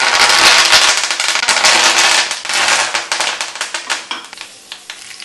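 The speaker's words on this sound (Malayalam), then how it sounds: "തിളച്ച എണ്ണയിലേക്ക് നമ്മൾ കറിവേപ്പിലയും വെളുത്തുള്ളിയും ഇഞ്ചിയും കൂടി ഇട്ടിട്ടുണ്ട്." Curry leaves, garlic and ginger drop into hot coconut oil in a pan and burst into loud, dense crackling and spattering, which thins after a few seconds into scattered sharp pops.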